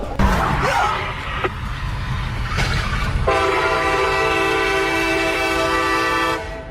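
A Japanese maglev train rushes past at over 310 miles per hour, a loud, sustained roar with a rising tonal whine that holds steady for several seconds before cutting off, heard alone without speech.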